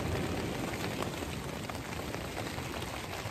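Rain falling on a beach at The Ness, Shaldon, during a fishing session: a steady, even hiss of drops that is moderately close and continuous, with no voices.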